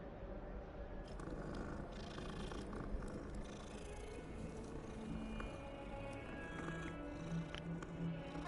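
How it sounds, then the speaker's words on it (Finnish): A cat purrs steadily while being petted in the video game Hogwarts Legacy, a faint, continuous low rumble that stays soft throughout. "Kissa taas. Tää silittää näin."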